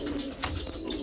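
Pigeons coo in a Punjabi pigeon-keeping loft, a soft low burbling close by, with a brief rustle mid-way and steady background noise.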